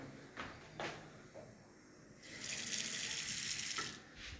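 Drinking water tap at a school running, with a rush of flowing water that swells up for a couple of seconds after a few knocks and handling sounds, moderately close and without talk.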